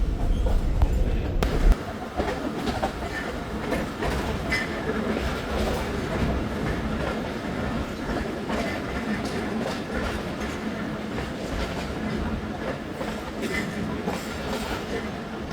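The Thal Express passenger train rolls steadily along the rails at night, a continuous rumbling roar with rhythmic clickety-clack of wheels over joints, heard from on board, with a brief louder thump near the start.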